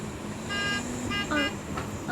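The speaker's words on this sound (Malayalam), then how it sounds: "നല്ല ഹോൺ." A car horn in a car simulator video game blares in sustained, steady tones that cut in and out across a couple of seconds over a constant game engine drone.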